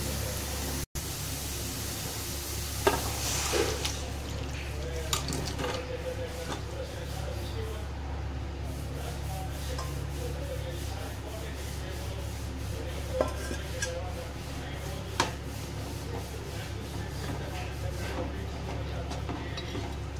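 Chicken is being mixed into masala in a pan, with soft, continuous rubbing stir sounds under a steady noisy hiss and occasional light clinks of a spoon against metal, no voices.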